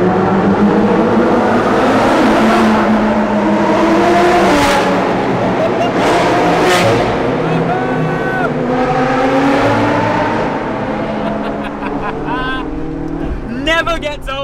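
McLaren 675LT supercar exhaust echoing in a tunnel: loud engine roar with rising and falling revs and sharp gear changes, reverberant and close, easing toward the end with talk underneath.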